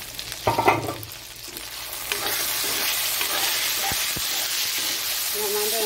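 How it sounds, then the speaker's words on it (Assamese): Brinjal (eggplant) pieces fry in a pan, with steady sizzling and hiss, a few clinks and stirring scrapes near the start, then continuous frying noise. "এবাৰ বেঙেনা ভাজিখিনি হৈ গ'ল।"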